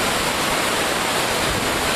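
Floodwater at Nynehead pours over the bank of a large stream as a dense, continuous rushing roar, loud and close, with no voices.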